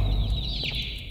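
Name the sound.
chickens clucking in video game Garten of Banban 2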